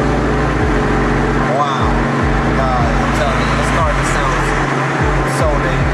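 A 530-horsepower 2003 Cobra's engine rumbles loud and close with a deep, lumpy low-end throb, pulsing irregularly as revs rise and fall, with no talk over it.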